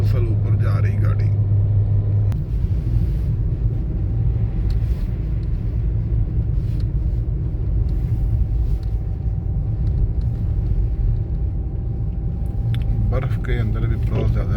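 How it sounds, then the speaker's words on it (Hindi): A car climbs steadily uphill on a snowy road, its engine a constant low rumble filling the cabin, while a person talks over it at the start and end. "मुसलसल ऊपर जा रही गाड़ी।"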